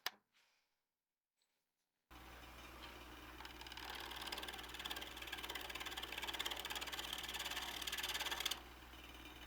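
Wood lathe starting up slowly with a workpiece held in chuck jaws, a brief click then silence, followed by a steady motor whir that builds gradually and holds, ending with a slight drop.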